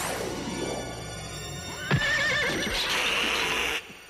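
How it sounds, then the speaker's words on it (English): A cartoon horse indoors lets out a loud, shrill neigh that falls away, with a thump and a brief clatter of hooves before a short high whinny to close. "Don't bring the horse in the house!"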